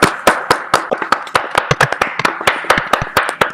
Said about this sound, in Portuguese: E dar uma salva de palmas aqui